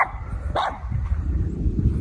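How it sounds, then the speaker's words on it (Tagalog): A dog barks a couple of times nearby, short sharp yaps followed by low rumbling background noise. "ang ingay ng aso dito guys"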